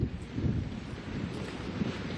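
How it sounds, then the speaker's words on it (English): Strong wind blowing at an outdoor waterfront site being developed as an offshore wind hub, buffeting the microphone with a steady low roar and no voices. "given how windy it is today"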